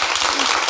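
An audience at a press conference for the launch of the A+ Bénin channel applauds to welcome Frédéric, a dense, loud burst of clapping from a crowd close by.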